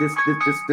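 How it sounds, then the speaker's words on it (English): Phone alarm going off, a repeating bright electronic melody pulsing in short, evenly spaced bursts, loud and close. "yup, that's my alarm"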